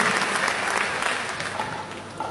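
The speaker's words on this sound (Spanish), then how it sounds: "Denle un aplauso al Señor Jesucristo en esta noche" Steady applause from a church congregation honoring Jesus Christ during an evening sermon, a dense, continuous wash of many hands clapping at even loudness throughout, with no voices rising above it.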